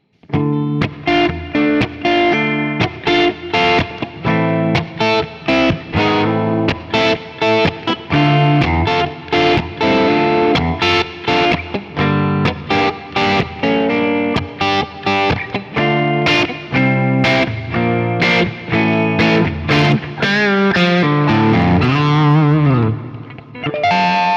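An electric guitar plays a chord progression, run through effects with distortion, chorus and reverb, strummed steadily and loud for the whole stretch, with the last chord ringing out and bending near the end.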